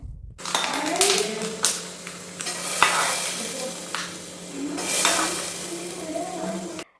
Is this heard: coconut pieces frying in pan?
yes